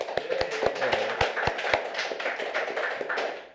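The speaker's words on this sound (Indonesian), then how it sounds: "Mari kita sambut dengan tepuk tangan yang cukup meriah." Applause at an evening event for small businesses in East Lombok, with a few sharp near claps early on and a light, scattered patter of hands continuing behind.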